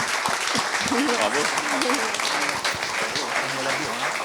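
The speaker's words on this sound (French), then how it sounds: "On peut les applaudir tous les deux." Colloquium audience in Avignon clapping for two guests: a continuous wash of applause from a crowded room, with voices talking over it throughout.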